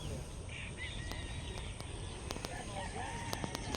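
A mother hen clucks on a farm amid other chickens, soft scattered clucks and clicks over a steady outdoor background with occasional sharp ticks.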